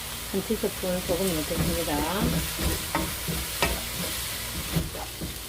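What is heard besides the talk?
squash stir-frying in a pan with salt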